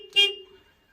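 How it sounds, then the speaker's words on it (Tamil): Horn on a Hyundai 140 excavator sounds from the cab, a single short loud honk of about a quarter second with a tonal ring that fades quickly into quiet. "ஹாரன்."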